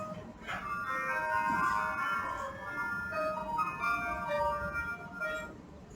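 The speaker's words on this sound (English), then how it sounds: "Sorry for my cell phone ringing." A cell phone rings in a quiet acupuncture treatment room, playing a melodic, chiming ringtone of repeating tones that keeps going throughout, fairly faint, with a hint of background voice.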